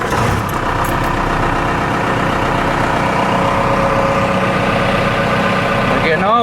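A 4BT Cummins diesel engine cranks and fires, settling into a loud, steady, rough idle close by, with a brief rising whine near the end.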